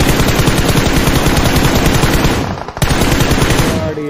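Loud, rapid automatic gunfire in the battle royale game BGMI rattles close up in continuous bursts with a brief pause, and nobody talks.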